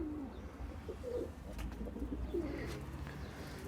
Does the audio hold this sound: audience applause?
no